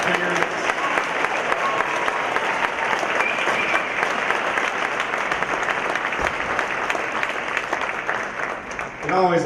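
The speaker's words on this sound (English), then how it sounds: "how about just one last round of applause, really for everyone, all the students, parents." A school honors night audience of students and parents gives a sustained round of applause, a dense, even wash of many hands clapping for about nine seconds before tapering off.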